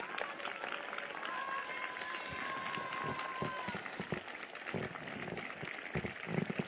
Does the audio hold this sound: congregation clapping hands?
yes